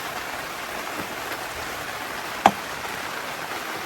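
Steady rain falling outdoors, an even close hiss of drops on surfaces throughout, broken once by a single sharp knock.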